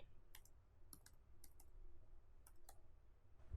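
Keys tapped on a computer keyboard while editing Python code, a few sparse clicks in small clusters, fairly close but quiet, over a faint steady background hum.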